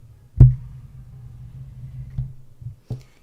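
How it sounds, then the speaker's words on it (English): A microphone being handled and shifted, producing a few thumping bumps and low rumbling knocks, loud and close, with no talk. "That's the sound of me moving my microphone."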